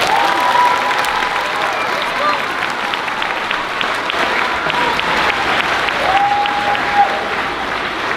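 Sustained applause from an audience at a 5th grade moving-up ceremony, dense and steady clapping for the full stretch, with a faint murmur of voices underneath.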